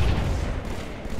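A bomb blast in an isolation bomb speedrun video game, a dense, sustained rumbling boom with heavy low-end weight filling the whole moment at steady loudness, no voices over it.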